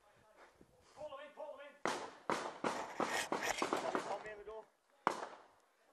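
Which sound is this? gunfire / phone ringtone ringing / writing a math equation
gunfire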